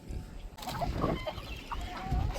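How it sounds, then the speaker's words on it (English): Several chickens cluck and squawk close by in a busy, overlapping flurry of short calls. "there's a lot of chicken chaos"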